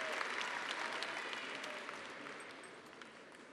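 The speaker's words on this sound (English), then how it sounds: "Why don't y'all give yourselves a round of applause?" A graduating class at a 2015 high school ceremony applauds, a dense wash of many hands clapping at a distance that tapers off slightly toward the end.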